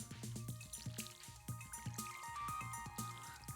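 Watering crops with a watering can in Stardew Valley: quick, bubbly splashing and dripping pulses in a steady rhythm, close and fairly quiet, with no voices.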